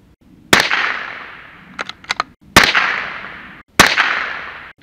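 Three loud, sharp gunshots crack outdoors at target practice, each followed by a long rolling echo, with a few small mechanical clicks between the second and third shots.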